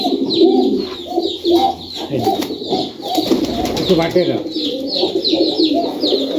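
Rajshahi highflyer pigeons coo repeatedly close by in a loft in soft, throaty bursts, with occasional wing flutters and a person talking over them.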